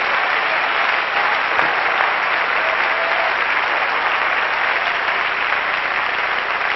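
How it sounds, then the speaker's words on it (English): Church congregation clapping hands continuously, a loud, unbroken roar of applause lasting several seconds at steady intensity. "Clap your hands and thank God for your salvation right now."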